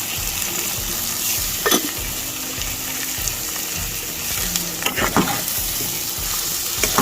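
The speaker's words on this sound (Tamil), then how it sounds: "கொஞ்சம் எண்ணெயிலே வேகட்டும்." Potato pieces frying in oil in a pan, seasoned with chili powder and salt; a continuous close sizzle with a few brief scraping stirs of a spoon.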